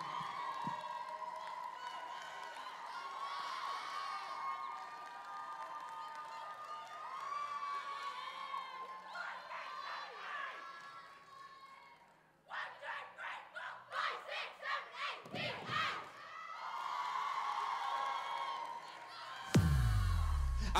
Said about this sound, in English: keep that cheering going from Shifnal, England